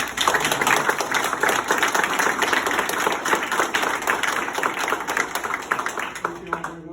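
Audience applause for county staff at the Sullivan House ribbon-cutting dedication ceremony: a loud, dense, steady wash of many hands clapping that tapers slightly near the end, with voices mixed in.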